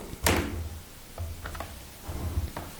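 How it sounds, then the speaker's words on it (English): A cupboard door that will not shut bumps and knocks repeatedly against its frame, with three dull low thuds and small clicks and taps spaced across a couple of seconds in a quiet room. "Why can't I shut this cupboard door?"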